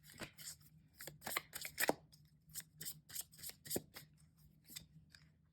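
Tarot cards being drawn and shuffled, giving quiet, close papery slaps and riffling rustles in uneven bursts with soft pauses between.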